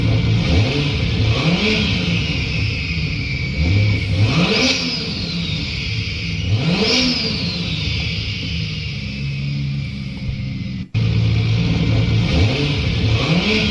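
JDM car engine fitted with a T51R turbo revving hard: repeated rising and falling pulls with a whining turbo spool on each, loud and close, with no talk over it.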